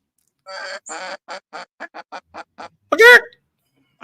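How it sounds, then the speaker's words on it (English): A series of about ten rapid quacks from ducks and geese at a local pond in a rhythmic run, close by, followed by one louder, drawn-out honk. "ducks and geese up the local pond."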